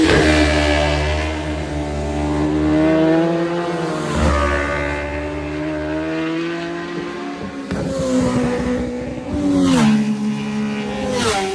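Yamaha Ténéré 900 motorcycles rev hard and accelerate, their engine pitch climbing and falling through repeated wheelies and drifts. Several loud, overlapping passes rise and fade at close to mid distance.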